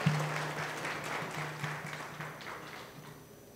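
Applause from an audience at a 2017 workforce graduation ceremony, a steady crowd clapping that fades gradually over a few seconds, with a faint steady hum underneath.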